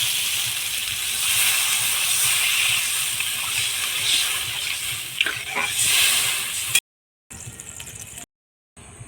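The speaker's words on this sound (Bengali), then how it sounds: "সবজি মশলা সব ভাজা হয়ে গিয়েছে এখন আমি একটু জল দিয়ে দেবো" Water is poured into a pan of frying vegetables and spices for a fish curry, producing a loud steamy hiss and bubbling gush that settles into sputtering before the sound cuts out abruptly.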